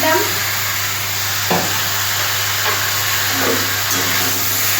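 Long-cut, washed onions hit hot oil with potatoes and cauliflower, giving a loud, steady sizzle with a constant hiss, a low electrical hum and a few soft stirring knocks.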